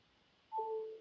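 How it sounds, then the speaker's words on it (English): Phone being plugged in to charge gives a short, faint two-tone chime, a brief higher note followed by a lower sustained one, then a small click at the end in a quiet room. "this is me charging my phone."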